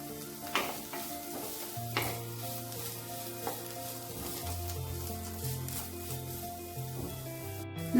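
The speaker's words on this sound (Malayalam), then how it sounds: "നല്ല പോലെ ഇളക്കി കൊടുക്കണം" Vermicelli upma with onion and curry leaves being stirred in a frying pan, a steady sizzle under repeated scraping strokes of the spoon, close and moderately loud, with no talking.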